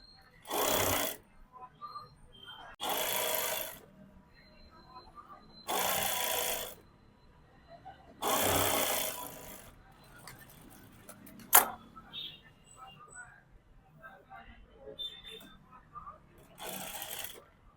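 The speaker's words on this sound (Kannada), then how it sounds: "ಕಟ್ ಮಾಡ್ಕೊಂಡು ಈ ರೀತಿ ಫೋಲ್ಡ್ ಮಾಡಿ ಸ್ಟಿಚ್ ಮಾಡ್ತಾ ಇದ್ದೀನಿ" A sewing machine stitching the folded cross-piece finish on a boat-neck blouse back neck, running in five short, loud bursts separated by quiet pauses and a sharp click.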